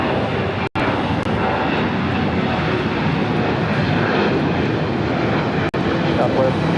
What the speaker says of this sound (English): This is Southwest Airlines 189 taking off to Nashville, Tennessee on the 737-800